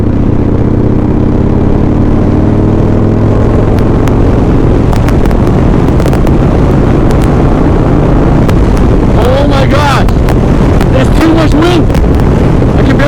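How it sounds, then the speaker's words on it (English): Strong sandstorm wind batters the microphone throughout a ride, a loud, constant roaring rumble with gusty bursts, and a voice occasionally shouts through it. "Wind! I can barely go! Wow, this is insane!"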